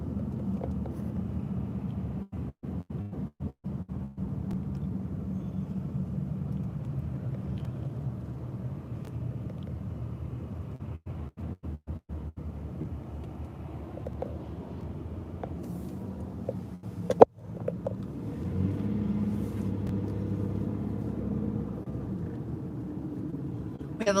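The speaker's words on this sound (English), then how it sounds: "We have a lot of local traffic that's driving by" Local road traffic rolls past during a street parade gathering in downtown Edinburgh, Indiana, a continuous low rumble of passing cars with a sharp knock partway through, and people talking over it.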